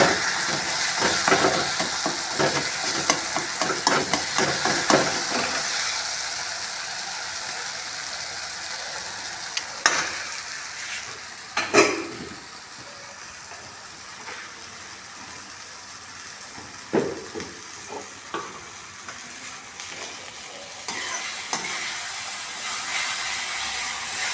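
Tomatoes frying in a pan while cooking baingan bharta (eggplant mash), a steady close sizzle with occasional scraping stirs and clatters, no talking.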